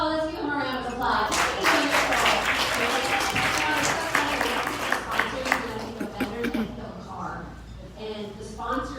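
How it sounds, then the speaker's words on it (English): Audience members at a community co-op gathering clap for a speaker, a modest round of applause mixed with voices talking over it, tapering off toward the end. "let's give him a round of applause."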